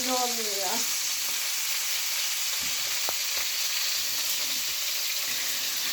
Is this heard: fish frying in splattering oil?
yes